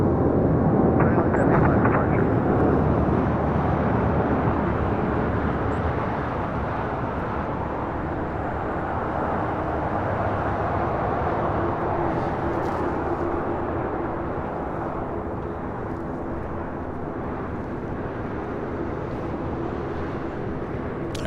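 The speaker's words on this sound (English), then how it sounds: "the A380 touching down there on 24 left on the north side" An Airbus A380 touches down on runway 24 left on the north side at LAX, a broad steady engine roar that is loudest at first and then eases to a sustained rumble.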